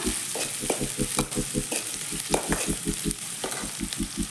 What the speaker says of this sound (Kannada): ಸ್ವಲ್ಪ ಫ್ರೈ ಮಾಡಿಕೊಂಡ್ರೆ ಸಾಕು